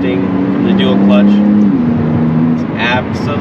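Maserati MC20 mid-mounted engine droning steadily right behind the cabin while driving, with a rising pitch as revs climb, a brief shift dip and faint turbo whistle and hiss, continuous and close.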